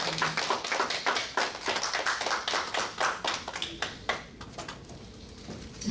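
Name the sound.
church congregation applauding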